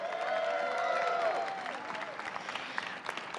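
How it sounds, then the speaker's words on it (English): Audience applause at the Iowa State Fair, steady clapping from a gathered crowd that starts fairly strong and thins toward the end, with some voices mixed in. "Let's give it a round of applause for Marilyn."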